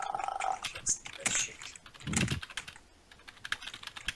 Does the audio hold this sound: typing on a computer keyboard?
yes